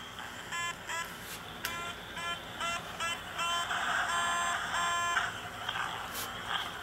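A tiny walkie-talkie gives a series of short, thin electronic beeps in clusters, quiet and close, over a faint background hiss.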